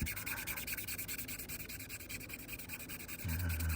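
Rhythmic scratchy rubbing of sandpaper across a 3D-printed resin surface, steady back-and-forth strokes, close and fairly quiet, ending with a low thump.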